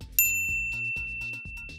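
A bright notification bell ding rings once and sustains, layered over a soft rhythmic musical background at low volume.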